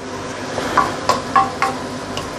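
Sweet potato leaves are stir-fried with sambal belacan in a pan, giving a steady sizzle broken by several sharp scraping and tossing strokes of a spatula at a regular, unhurried pace, all close by.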